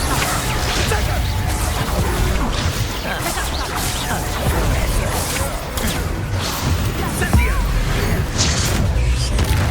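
Confringo blasting-spell explosions in the game Hogwarts Legacy crash and burst amid a loud, continuous roar of combat noise, with repeated booming impacts and whooshes throughout and no let-up.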